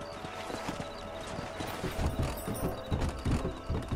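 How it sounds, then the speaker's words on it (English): Horse hooves from the Red Dead Redemption video game, a quick rhythmic clip-clop of a trotting horse on a dirt trail, steady and moderately close, with faint tack and gear rattles alongside. "Let me take this horse this time, thank you."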